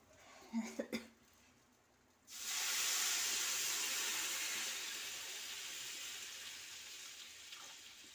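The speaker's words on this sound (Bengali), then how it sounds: "এখন আমি এর মধ্যে জল দিয়ে দেব" Water poured into a pan of semolina for savory upma: a few soft thumps, then a sudden steady rushing hiss of pouring that slowly eases and settles, with no talk.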